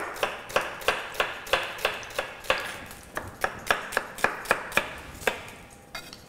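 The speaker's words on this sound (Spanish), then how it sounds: "Cortamos un poquito de la cebolla." A knife slicing onion into thin julienne strips on a board, a brisk series of sharp, close chops in an irregular steady rhythm.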